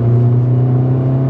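A Mini Cooper JCW GP2 turbocharged hatchback pulls away with its loud exhaust mode on, a steady droning engine note and exhaust rumble holding close and strong throughout, with no talk.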